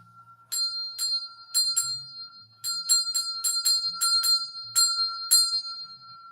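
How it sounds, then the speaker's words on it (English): A small bell is rung repeatedly in quick clusters, a dozen or so bright, clear strikes in irregular rhythm, each ringing briefly before the next, heard alone in a quiet room. "we need to ring the bell a couple times"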